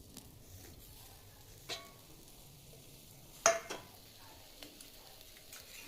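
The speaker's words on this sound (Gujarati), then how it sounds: "ગેસ ચાલુ કરીને લોટી મૂકી દેવાની, એની અંદર મરચાં મૂકી દેવાના બધા ભરેલા." Stuffed green chilies (bharwa mirchi) fry in a pan on a gas stove, giving a quiet, low sizzle broken by a few sharp pops and a brief utensil clink.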